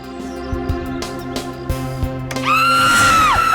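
A woman's scream rises in pitch and holds loud over the last second, following a stretch of tense background score and thumping bangs from a Hindi crime drama scene.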